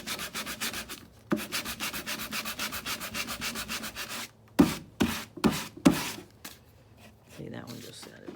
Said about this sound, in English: See, that one just sanded right off.